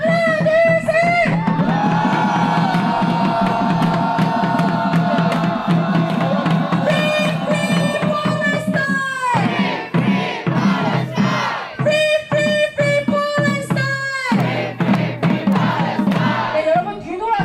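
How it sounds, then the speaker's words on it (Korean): A large protest crowd near the Israeli embassy in Seoul roars in sustained angry shouting, a dense continuous mass of voices close and loud, then breaking into rhythmic chanted bursts. "네타냐후를 향해서 분노의 함성 지르겠습니다"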